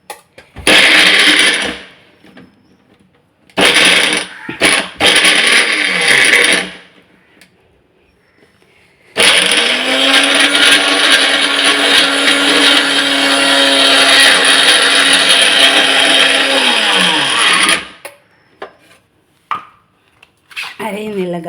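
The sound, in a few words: mixer grinder running, grinding spice paste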